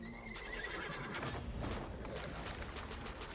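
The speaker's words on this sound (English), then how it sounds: "Random horse sounds." Horse neighing and whinnying alongside clip-clop hooves, a dense, busy mix of sound with no talking.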